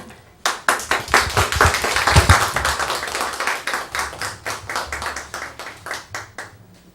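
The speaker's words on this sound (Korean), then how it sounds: "감사의 박수 드립니다" Audience applause at a church special lecture, starting suddenly after a short silence and lasting several seconds as steady, close hand clapping. It tapers into scattered individual claps near the end.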